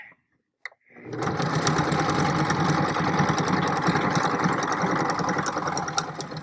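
A sewing machine runs steadily while top stitching near a pleat, starting after a short pause and a small click, then whirring loudly and continuously up close without any talk.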